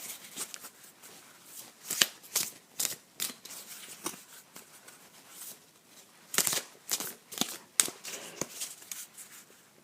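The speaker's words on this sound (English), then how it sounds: "let's begin to shuffle." A deck of cards is shuffled by hand in a quiet room, giving rapid riffling, flicking bursts in uneven clusters that stay close and fairly crisp throughout, with no talking.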